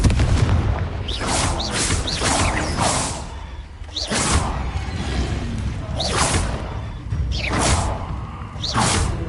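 Repeated blasting-spell explosions from the Hogwarts Legacy video game, several loud booming bursts with whooshing tails arriving in irregular clusters over steady game background, no talking.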